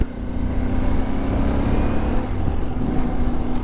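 A 2025 CF Moto 450 MT motorcycle engine drones loud and steady at close range with a sustained rev and a low rumbling tone, no voices over it.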